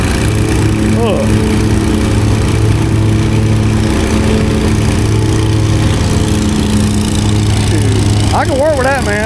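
A lawn mower engine runs loud and close without a break, its steady drone holding throughout while a couple of brief higher sweeps rise above it.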